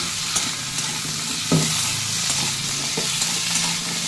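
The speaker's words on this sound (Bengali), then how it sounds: "ভাজা ভাজা হবে, একটু ভাজা ভাজা করতে হবে" Tender kohlrabi and potatoes fry together in a pan. A steady close sizzle runs throughout, with a few soft clicks and scrapes from stirring.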